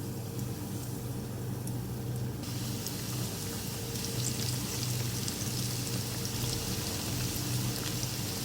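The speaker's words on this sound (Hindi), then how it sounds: "अब मैं इसको फ्राई करूँगी, एक एक करके" Coated fish pieces frying in hot oil, a steady dense crackle and hiss that carries on evenly throughout, close and continuous with no talking.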